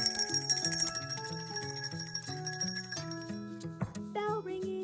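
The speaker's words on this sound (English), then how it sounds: "We always ring the bell when my girls make a decision where they're going to enroll." A bell rings repeatedly in a quick, steady rhythm for about three seconds, bright and close, then stops and a few clinks follow.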